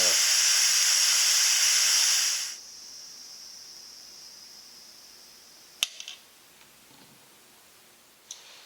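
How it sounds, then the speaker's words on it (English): Steam hissing hard from a pressure cooker's quick-release valve for a couple of seconds, then dropping to a faint steady hiss with a few light clicks afterward. "So we're going to quick release the steam here."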